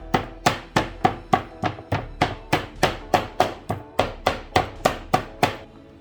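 Beef for Nigerian suya is pounded flat with steady, evenly spaced thuds, about twenty close, sharp blows in a regular rhythm with no talking.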